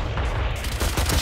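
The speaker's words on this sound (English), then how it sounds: "Oh my god, I missed all those shots." Gunfire in the Valorant video game, a dense loud burst of rapid shots with sharp repeated cracks over a heavy low rumble, continuous through the whole moment, no talking.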